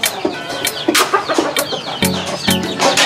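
Farm chickens cluck and squawk close by in a loud, busy flurry of short calls, several birds overlapping in quick succession during feeding.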